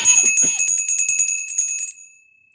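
A small bell rings rapidly at a live auction, a bright, close, fast run of about fifteen strikes that stops and leaves a ringing tone fading out, with no talk.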